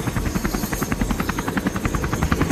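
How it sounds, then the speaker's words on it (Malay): A helicopter in the snowy mountains near Queenstown makes a close, loud, rhythmic thudding of rotor blades. The beat is rapid and even over a constant engine whine, with no talking. "Perlahan-lahan kami naik semua ke dalam helikopter."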